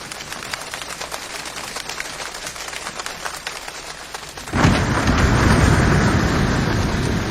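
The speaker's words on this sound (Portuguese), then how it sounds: "chuva em uma cabana ou um acampamento" Rain falls on a cabin or campsite as a dense, steady patter, then suddenly swells into a heavier, louder downpour partway through.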